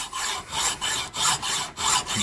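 Hacksaw cutting through a metal bracket shaft clamped in a vise, a close rhythmic rasp of about five back-and-forth strokes with short dips between them.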